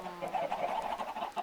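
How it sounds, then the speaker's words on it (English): Minecraft chickens cluck in the game, a soft, busy run of repeated clucks close by with no talk over them. "I'm going to walk away from these chickens. They're too loud."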